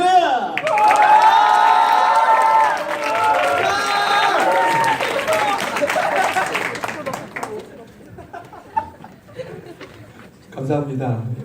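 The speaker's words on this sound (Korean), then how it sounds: "우리 박수로 할렐루야 크게 외치면서 여러분이 할 수 있는 최대의 함성을 질러가며 우리 선교사님 맞이하겠습니다" Youth congregation at a Korean Full Gospel church service breaks into loud, sustained applause and cheering with shouted voices for about seven seconds, fading into scattered claps and murmurs before a final burst of noise.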